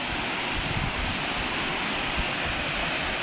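A waterfall on a trip in Switzerland, heard as a constant broadband rush of falling water, dense and unbroken, with low wind rumble mixed in and no voices.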